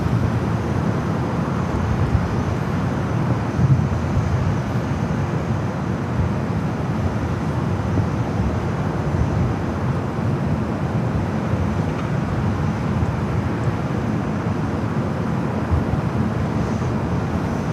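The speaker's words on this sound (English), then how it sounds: "Austrian heading down for a south side takeoff." Austrian Airlines jet taking off from the south side runway at LAX, a steady, loud roar of engines holding constant throughout with no voices.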